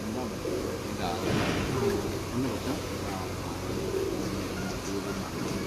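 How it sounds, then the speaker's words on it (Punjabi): Pigeons, breeder birds kept by a fancier, coo softly and steadily in the background while someone talks over them. "ਕਨਫਰਮ ਪ੍ਰਵਾਜ਼ੀ ਕਬੂਤਰ ਨੇ ਮਾਸ਼ਾਅੱਲਾ"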